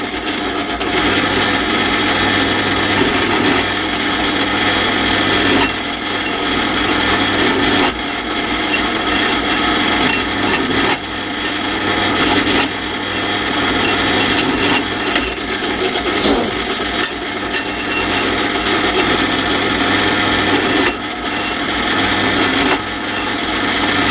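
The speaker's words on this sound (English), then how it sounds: "we'll just run a countersink through those" A countersink bit deburring freshly drilled holes while building an engine stand, giving a steady rough grinding and scraping that runs continuously, close and fairly loud, with short pauses between passes.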